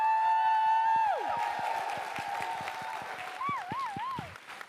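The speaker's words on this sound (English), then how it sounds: "Please give Donna a huge round of applause" Applause with scattered claps from a crowd at a women's health event in Westminster, London, under a loud sustained musical tone and sweeping electronic notes.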